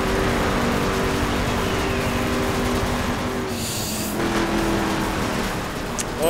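Car racing through a canyon in the video game The Crew, a steady loud engine drone with tire noise throughout, a brief hiss and whoosh partway through, no talking.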